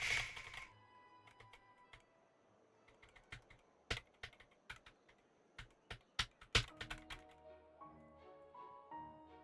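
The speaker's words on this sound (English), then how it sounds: "I don't know if you're actually able to like hear my keyboard that much." Computer keyboard typed on during a Genshin Impact story-quest stream, heard as scattered clicks and bursts of keystrokes, fairly faint and close, with sharper louder taps near the middle and irregular rhythm throughout.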